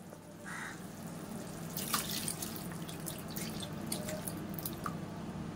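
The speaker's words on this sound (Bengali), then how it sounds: "এই জল শুদ্ধ পনিরটা এই কষা মশলার মধ্যে ঢেলে দেবো" Water with soaked paneer is poured into fried-down spiced masala in a pan, a soft continuous splash and trickle with faint drips, heard quietly without talk.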